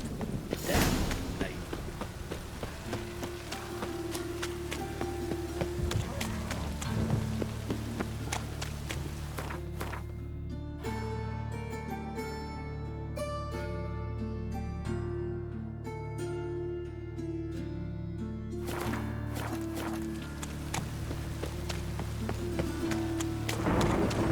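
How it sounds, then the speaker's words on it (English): Steady rain in The Witcher 3 hisses throughout with a low rumble underneath, briefly giving way to a soft melodic passage in the middle before the downpour returns. "Rain again."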